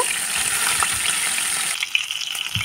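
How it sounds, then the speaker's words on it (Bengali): Marinated koi fish fry in hot mustard oil with a loud, close crackling sizzle that thins out partway through into sparser pops and spits. "তেলটা একটু ভালো করে গরম করে নিয়ে আমরা ম্যারিনেট করে রাখা মাছগুলো ভেজে নেব।"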